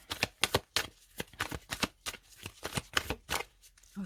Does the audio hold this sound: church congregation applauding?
no